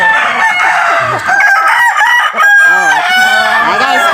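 A Talisay rooster, a Filipino gamefowl, crows loudly and close by in long, wavering calls, with clucking from other fowl mixed in.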